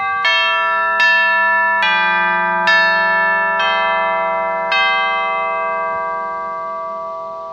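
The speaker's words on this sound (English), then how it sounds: "There are hammers behind the chimes up at the top there that are striking, indeed, the top of the chimes." Hammers at the top strike a set of chimes about six times in a slow, uneven sequence, each clear, loud metallic tone ringing and overlapping before fading out at the end.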